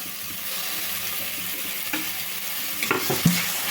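Carrot and tomato pieces fry on high heat in a pan, a steady close sizzle with stirring scrapes and a few sharper clatters near the end, with no talk.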